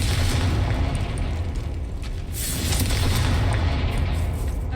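In the Hogwarts Legacy video game, a Confringo blasting spell explodes in a loud, dense rumbling boom that fills the whole stretch and keeps roaring without pause.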